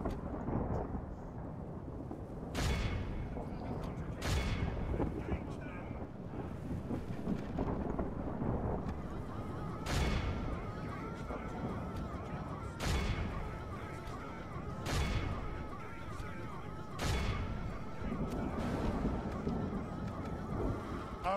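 Battle gunfire in a fantasy strategy game with dwarf armies, a string of sharp broadband shots landing every couple of seconds over a constant roaring wash of battle noise, with faint voices underneath.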